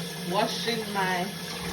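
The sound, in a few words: tap water running while washing vegetables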